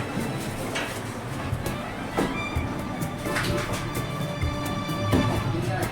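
A passenger train rolls along with a continuous broadband rumble. Scattered clanks and rattles sound from the carriage, and faint voices can be heard in the background.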